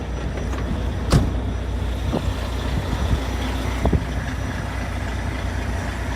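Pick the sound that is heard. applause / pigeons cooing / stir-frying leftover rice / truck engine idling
truck engine idling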